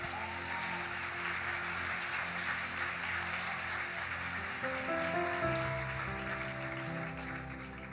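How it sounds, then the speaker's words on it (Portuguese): A congregation at an evening church service applauds the preacher, a sustained wash of clapping heard over organ-like sustained music tones that shift pitch partway through. "Uma salva de palmas para o nosso pregador desta noite."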